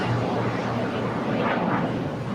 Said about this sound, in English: See the KLM now pushing back.